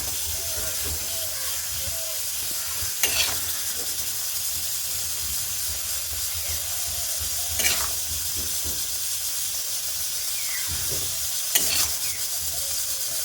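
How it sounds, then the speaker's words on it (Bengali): Food sizzles and hisses steadily in a hot pan, with a few sharper scraping stirs breaking through the constant frying noise. "এখন নাড়াচাড়া করে দিচ্ছি ভালো করে"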